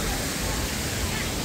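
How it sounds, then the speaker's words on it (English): Mystic River Falls, a waterfall at the Silver Dollar City theme park, gives a steady, broadband rush of falling water, close and constant, with faint crowd chatter mixed in. "we're over here by Mystic River Falls"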